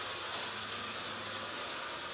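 A model train running on tracks through a house, with a steady, even rumble and hiss of wheels rolling continuously at a moderate distance.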